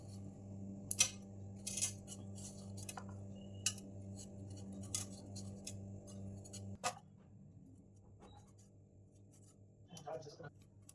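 Taro (gati kochu) being cut up by hand for a home-cooked curry: a run of sharp, irregular clicks and scrapes from the blade, close by, over a steady low hum that drops away near the end.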